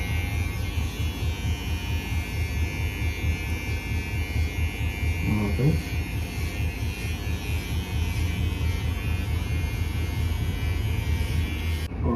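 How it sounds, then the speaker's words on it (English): An electric hair clipper buzzes steadily and close up while shaving a head down to zero, a constant droning hum that never stops, with slight changes as it moves over the scalp. "malinis na yung harap na ahitan natin ng clipper"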